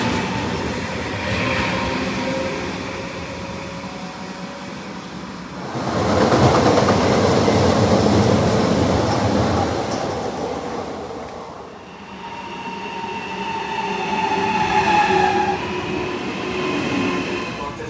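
A Trenitalia Regionale passenger train rumbles along the rails near Rome, its steady roar swelling and easing over about eighteen seconds, with faint wheel squeal and clatter running through it and no voices.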